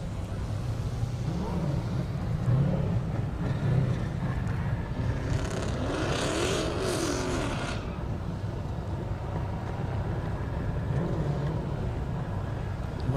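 A 1965 Mustang road race car at an airport drag race, a continuous loud engine roar with a rising whine partway through, steady crowd and ambient noise underneath.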